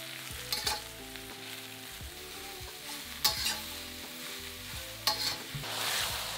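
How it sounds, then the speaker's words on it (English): Sliced chestnut mushrooms being stir fried in a pan, a soft, continuous sizzle broken by a few sharp scrapes and clinks of stirring, quiet and close. "Then stir fry for about 3 minutes until the mushrooms are soft."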